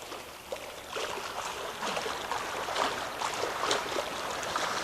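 A swimmer practising butterfly stroke churns the water, sending out repeated rhythmic splashes and sloshing over a steady wash of pool noise, fairly close and moderately loud.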